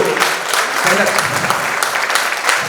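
A crowd claps steadily and fairly close, a continuous patter of many hands, with a voice faintly mixed in underneath.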